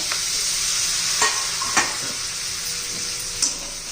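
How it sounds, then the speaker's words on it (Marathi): Potato pieces sautéing in hot oil for a potato stem vegetable dish, a steady loud sizzle throughout with occasional scrapes of a spoon stirring the pan. "छान असं तेलामध्ये परतून घ्यायच्या सगळ्या फोडी एक दोन मिनिट"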